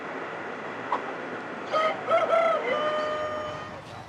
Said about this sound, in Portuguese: Tem um galo já cantando a canção da recepção.